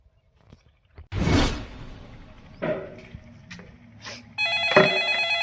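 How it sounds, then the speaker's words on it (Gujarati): A telephone rings with a tonal electronic ringtone that starts partway through, preceded by a whooshing rustle and scattered movement noises in a quiet room. "હવે કને ફોન આવ્યો?"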